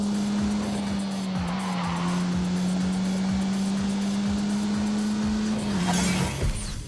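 An Alpine car in The Grand Tour Game, driven hard with a sustained engine drone and long tire squeal, loud and close for several seconds, with the skid easing near the end.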